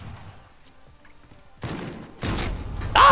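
A late-detonating grenade in a video game bursts into a loud blast after a quieter stretch, followed by a second heavier boom near the end, the explosions growing louder and filling the full range.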